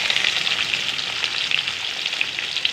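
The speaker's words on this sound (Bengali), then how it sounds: "দারচিনি লং তেজপাতা এখন দিয়ে দিচ্ছি পেঁয়াজ" Onion hits hot oil with cinnamon, cloves and bay leaf while a crab curry is being made. It gives a steady, close, crackling sizzle that keeps going without a break, with no talk.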